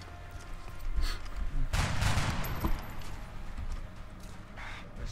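A single soldier's flanking gunshot in XCOM: Enemy Within, a sharp crack with a short rumbling tail heard against quiet game ambience.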